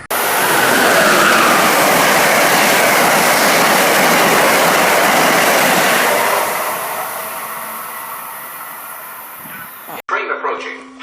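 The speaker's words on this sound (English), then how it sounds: "here comes Amtrak 150 about to fly by Guilford" An Amtrak train roars past Guilford station in Connecticut at speed, loud and continuous broadband rumble and rush that slowly fades after several seconds, then cuts to quieter ambience at the end.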